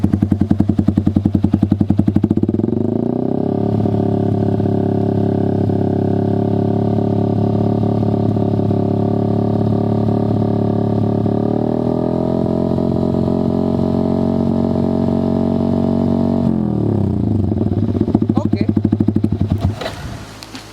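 Motorcycle fitted with a Proliner TR1 short exhaust held at steady mid-range revs around 4000 to 6000 RPM, a loud continuous drone that climbs a step partway through before dropping off at the end.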